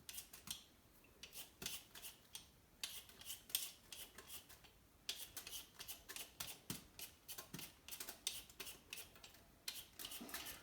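Close, quiet scraping of a knife peeling a potato, trimming blemishes in short repeated strokes with an irregular rhythm and brief pauses; no talking.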